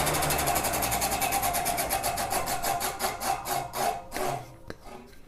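A table saw with a dulling blade cuts a wooden circle on a jig, making a rapid, rhythmic rasping chatter as the wood rotates against the blade, loud at first then growing uneven and fading, ending with a sharp knock.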